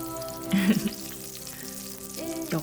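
White leek frying in butter in a pan, a soft close sizzle and crackle with a few louder spits, quiet and steady over a faint background hum.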